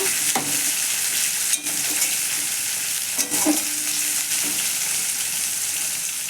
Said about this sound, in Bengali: টমেটোটা একটু ভেজে নেব।